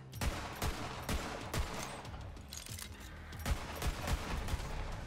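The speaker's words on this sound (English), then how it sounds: "Dude, I am shooting things" In the VR game Borderlands 3, gunfire comes as rapid, repeated bursts of thudding shots. The rhythm is fairly steady, the shots sit close and moderately loud, and nobody talks.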